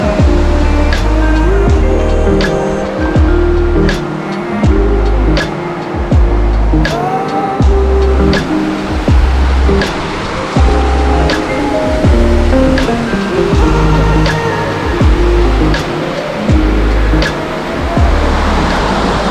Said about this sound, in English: I don't think I've ever seen a waterfall that color